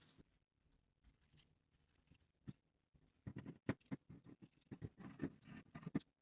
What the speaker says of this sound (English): I'm going to trim about 1/4 of an inch away from notch to notch.